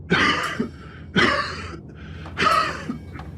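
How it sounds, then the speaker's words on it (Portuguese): An imp character in a horror audio drama coughs three times in harsh bursts, with rasping throat-clearing between them and no speech, close and loud. "O diabrete tossiu algumas vezes até tirar o pigarro da garganta e prosseguiu."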